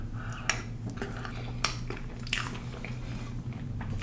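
Someone chewing and biting into a whole Oreo cake, with soft squishy bites and occasional sharper crunchy clicks over a steady low background hum, close and fairly quiet.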